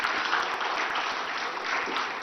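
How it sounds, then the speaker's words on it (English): Steady, dense applause from an audience greeting Sadhguru, a yogi and spiritual guru, on the dais at the Pride East Conclave 2025, a live event. Continuous crowd clapping, even and sustained throughout, with no voices. "Ladies and gentlemen, a bigger round of applause for Sadguru."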